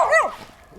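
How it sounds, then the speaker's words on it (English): A dog gives a single short, sharp bark or yelp up close, a quick rising-and-falling cry that fades into quiet background noise. "Yo, I didn't even see the dog."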